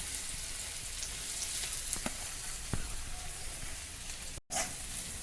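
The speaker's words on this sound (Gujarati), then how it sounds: "અહીંયા આપણે સૌપ્રથમ લસણ, ડુંગળી અને આદુ સાતરી લઈશું. એકદમ ફાસ્ટ ગેસે સાતળવાનું છે." Garlic, onion and ginger sizzle in hot oil over a high flame, a dense, steady hiss broken by a few light stirring taps and one brief dropout.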